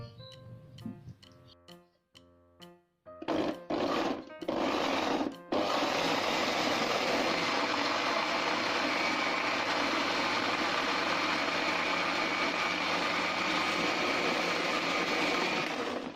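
A kitchen blender grinds garlic and dried small shrimp (rebon) with a little added water: a few short stop-start pulses, then a loud continuous whirring roar that runs steadily to the end.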